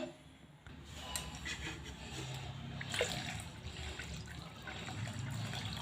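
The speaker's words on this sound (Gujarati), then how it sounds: "થોડું પાણી નાખીશું દાળના અંદર" Water poured from a glass into toor dal in a pot, a soft continuous splashing pour lasting several seconds, quiet and close.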